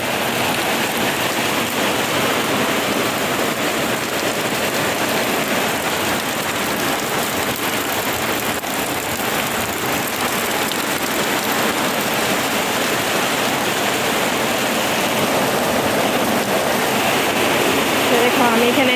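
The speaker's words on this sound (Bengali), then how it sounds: "অনেক বৃষ্টি হলো, বৃষ্টি শুরু হয়ে গেল" Heavy rain pouring down on a rainy day, a dense, steady loud roar of falling water close around, unbroken for the whole stretch.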